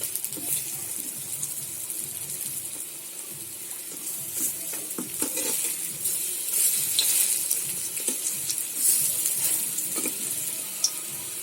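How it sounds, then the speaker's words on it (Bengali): Lentil fritters (bora) frying in hot oil in a karahi give a steady, close, airy sizzle with scattered pops and crackles throughout, alone without talk. "আমার বড়াগুলো ভাজা হয়ে গেছে"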